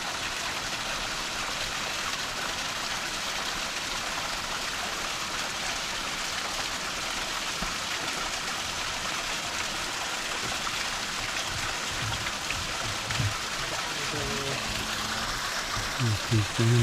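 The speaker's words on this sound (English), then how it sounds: "We're gonna have a little waterfall here. Very good. Nice little waterfall." A small waterfall and stream in the Yakushima cedar forest rush in a steady, dense wash of falling water, with a voice briefly speaking near the end.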